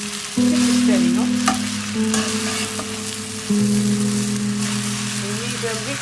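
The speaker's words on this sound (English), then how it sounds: "We need to mix very well and we need to fry as well. So keep your gas in high flame." Chicken chow mein with vegetables being stir-fried on high flame, a loud, continuous sizzle and stirring heard close up alongside steady background tones.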